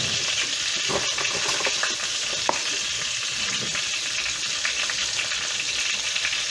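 Bell pepper cooks in a hot pan, producing a continuous close sizzle and crackle with a few louder pops, heard alone without talk.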